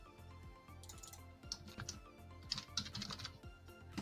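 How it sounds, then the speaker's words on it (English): Soft, quiet keystrokes on a computer keyboard, a short irregular patter of taps over a low steady hum, close but faint. "You just type in, for example, construction"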